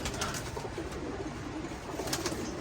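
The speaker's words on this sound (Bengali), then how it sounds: "হ্যাঁ, বেশ কিছু কবুতর আছে এখানে দেখেন," Breeder pigeons coo in a loft, soft throaty rolling calls that overlap in a steady close-up chorus, with no talk over them.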